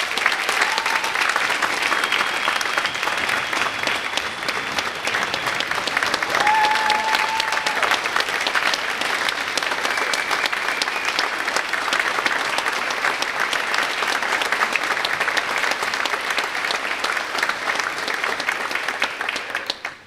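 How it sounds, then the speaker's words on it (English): Sustained applause fills an awards ceremony hall in honor of an athletics staff member's 25 years of service at Rose-Hulman, a dense, steady wash of clapping hands lasting about twenty seconds with a faint murmur of crowd beneath. "Let's have a round of applause for Kevin Lakey and his 25 years of service at Rose-Hulman"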